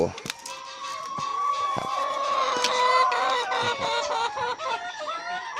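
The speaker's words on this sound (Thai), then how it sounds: "สังเกตดูแม่ไก่ของเรานะครับ" Laying hens clucking steadily and close by, a dense overlapping chorus of calls that runs through the whole stretch with no clear talk.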